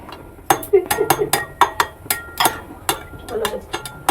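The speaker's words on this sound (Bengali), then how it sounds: "এতে সামান্য একটু নুন দেব, দিয়ে এটাকে আমি এর মধ্যে ফেটিয়ে নেব।" Eggs with a pinch of salt whisked in a bowl, a fast run of sharp clinking taps of utensil against the bowl, close and fairly loud, with a voice faintly present.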